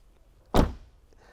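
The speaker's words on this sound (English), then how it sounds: "I go to shut this door" One solid thunk of a 2017 Maserati Levante door shutting, close and loud, then quiet.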